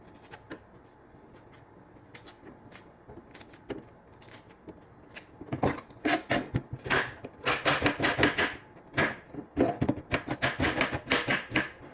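An onion is chopped on a cutting board with a knife for pancit canton, light sparse taps at first, then fast, loud, rhythmic chopping in quick bursts through the second half.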